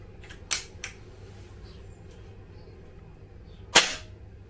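Shots from an SMK PR900W air rifle fired at frozen grass, heard as three sharp, close cracks: two near the start and one louder one near the end, over quiet background hiss.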